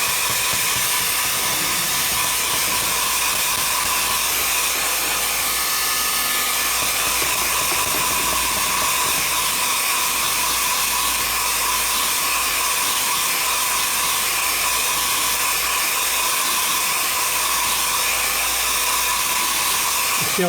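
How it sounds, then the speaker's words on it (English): A hairdryer drying a watercolour-style painting runs steadily and loudly, a constant broadband whoosh with a low motor hum, unbroken and close for the whole stretch. "let's get the hairdryer on that."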